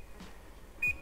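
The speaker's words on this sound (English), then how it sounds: "Set a timer for that." A kitchen timer gives a short electronic beep once during jasmine rice cooking, a brief tone near the end after a faint earlier chirp, over quiet room background.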